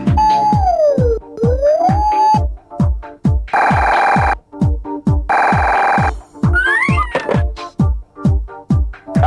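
A telephone rings on a call-in comedy show, giving repeated electronic rings with rising and falling warbles between bursts, loud and close, with no talking.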